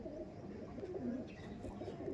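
Breeder pigeons in a loft give low, throaty, rolling coos. The sound is quiet and moderately close, with some soft background rustle and no talk.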